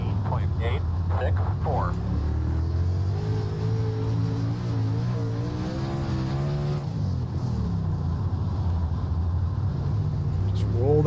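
Dirt late model race car in iRacing spinning its tires on a dirt oval, a steady loud engine roar with rising and falling revs, heard under continuous talk.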